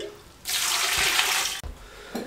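A mug of water poured onto soaked sela rice for mutton pulao gives a steady, close splashing pour of about a second, then a brief trickle and a soft clink.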